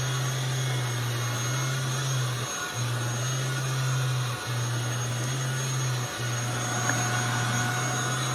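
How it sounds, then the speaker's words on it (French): An anti-dust-mite vacuum cleaner runs continuously on a bed with a loud steady hum and a constant hiss, briefly dipping three times as it moves, with no talking. "vous entendez, ça fait un bruit d'aspirateur classique."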